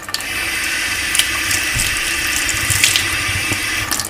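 Tap water pours steadily into a sink to wet a dirty makeup brush, a continuous close splashing hiss with small shifts as the brush moves under the stream, no talking.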